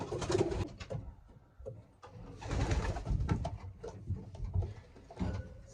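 Racing pigeons coo in a loft, soft repeated throaty coos in uneven bursts, close and fairly quiet, with faint shuffling noises between calls.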